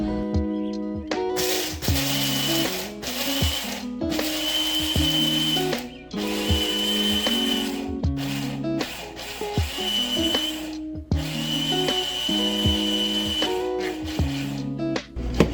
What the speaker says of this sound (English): we're just going to go ahead and blend this up until it's nice and very fine